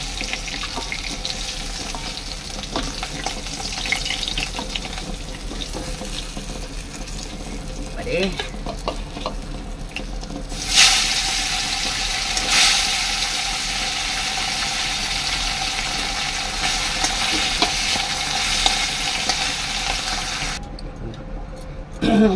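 Tilapia fish fries in oil with a continuous close sizzle, growing brighter and louder halfway through as pieces are turned or added, with occasional utensil clatter.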